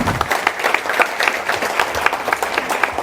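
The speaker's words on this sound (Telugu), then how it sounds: "ఇది యాక్సెప్ట్ చేస్తే మీరు ఒకసారి గట్టిగా చప్పట్లు కొట్టాలి" An audience at a motivational speech during a blanket donation drive breaks into continuous, lively applause, with dense clapping holding steady from start to finish.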